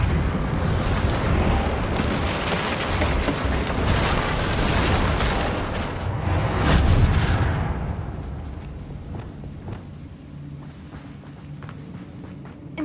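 Magical repair spell cast on a ruined bridge in Hogwarts Legacy, a loud rumbling, crackling surge with bursts that swell to a peak near the middle and then fade into a softer, lingering rumble.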